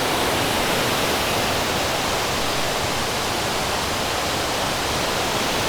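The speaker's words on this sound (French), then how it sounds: "Une autre vision de la cascade" A steady, dense roar of falling water fills the scene, broad and constant without pause, like standing close to a large waterfall at the bottom, in Doi Inthanon National Park, Thailand.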